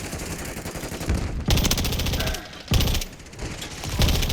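Rapid automatic gunfire in a video game hardpoint match, loud bursts of shots crackling in several waves with brief lulls between them, close and dense.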